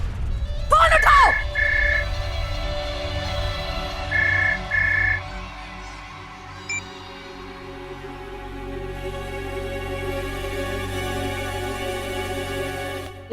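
A telephone rings loud and near in a few repeated bursts over a dramatic music bed, with a strained vocal cry at the start and the music carrying on after the ringing stops.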